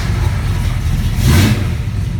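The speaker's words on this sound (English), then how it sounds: "Car fires right up. It's a great engine." 1974 AMC AMX Javelin engine catching and starting with a brief surge of revs, then settling back into a loud, steady low idle rumble, no voices.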